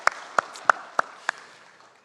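Five crisp, evenly spaced hand claps ring out in a church during a Sunday service, each sharp and close, with faint room echo trailing after the last.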